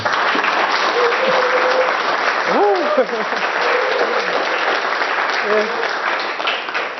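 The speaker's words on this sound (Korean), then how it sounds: "큰 박수로 맞이해 주십시오" Audience applause in a lecture hall greeting a visiting professor, dense steady clapping throughout, with a voice speaking briefly over it partway through.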